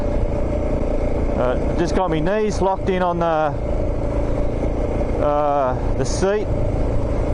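A motorcycle labours through deep sand at high revs in a low gear, its engine a steady loud drone that surges and whines, with the rider talking over it throughout.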